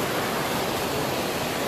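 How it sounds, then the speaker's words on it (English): Water pours steadily from a faucet, a dense continuous hiss heard close by, without any talking. "how do you like the faucet, Mitchell?"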